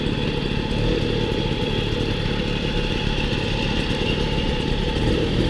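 A small moped engine, a Mobylette, revs and buzzes steadily up close on a country ride through vineyards, a continuous rough putter with wind noise and no speech.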